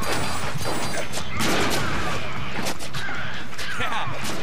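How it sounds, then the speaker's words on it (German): Gunfire in the Deadpool video game: a run of sharp cracks and crashing impacts, loud and close, scattered irregularly through a busy action soundtrack. "Weißt du, dass die Schüsse mich hier tierisch nerven von dem Penner?"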